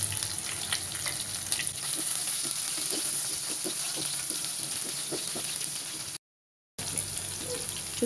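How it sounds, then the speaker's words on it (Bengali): Chopped garlic and onion sizzle steadily in hot oil while cooking radish dal, a continuous close frying hiss with faint stirring ticks, broken by a brief silent gap near the end. "দিয়া দিতেছি রসুন কুচি, দিয়া দেবো পেঁয়াজ কুচি"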